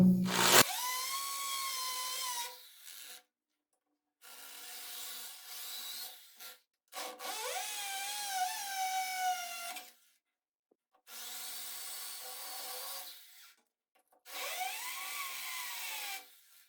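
An impact drill bores a hole in a bathroom wall to mount a grab bar, coming in four bursts of a few seconds each. Its whine sweeps in pitch and quiet pauses separate the runs.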